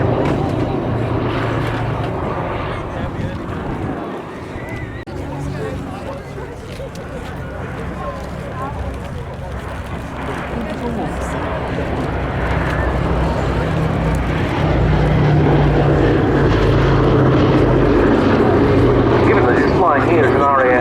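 A Boeing B-17G Flying Fortress propeller bomber flies past at an airshow, its steady multi-engine drone loud and continuous and swelling toward the end.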